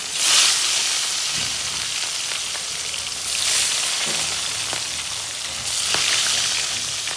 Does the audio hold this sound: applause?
no